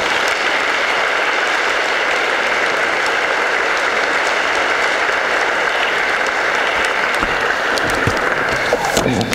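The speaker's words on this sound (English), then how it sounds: "thank him and ask you to give him a round of applause" Audience at the Grow family reunion gives a long, dense round of applause, many hands clapping steadily and loudly for the full stretch without breaks.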